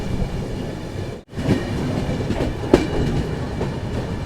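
Ananya Express arriving at Jasidih station: continuous close rumble and clatter of wheels on track, a short gap near the start, then a few sharper knocks and clunks over the running noise; no talking.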